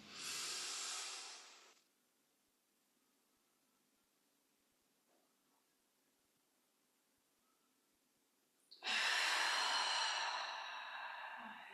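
A long, slow breath drawn in by a person during a guided relaxation exercise. A soft airy hiss fades into a quiet pause, then a second loud, breathy rush follows close by.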